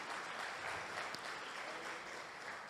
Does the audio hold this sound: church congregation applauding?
yes